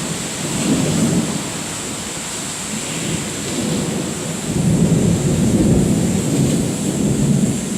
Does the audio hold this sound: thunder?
yes